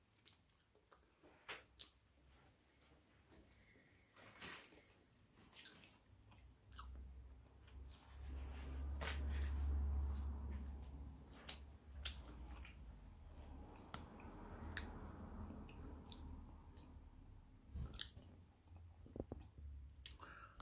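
Someone eating a piece of Tesco own-brand birthday cake close up, with soft chewing, smacking and mouth sounds repeating over about twenty seconds, fairly quiet overall.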